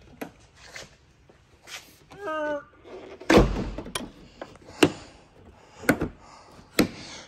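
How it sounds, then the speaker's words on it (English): Hood of a Jeep Gladiator Rubicon pickup truck being shut: one loud, solid metallic thunk amid scattered softer knocks and clicks in a quiet garage, with a few brief quieter thumps afterward. "Let's close up the hood."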